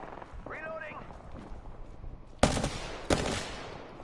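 Two loud, sharp bursts of Prowler fire in Apex Legends, each a dense broadband blast with a decaying tail, preceded by quieter game sounds and a brief tonal effect.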